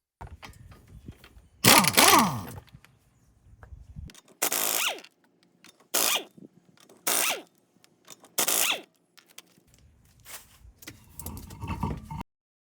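A power tool whirs in short, repeated bursts, spinning the hubcap lug nuts off a Nissan Quest front wheel, each burst separated by brief pauses in a quiet garage.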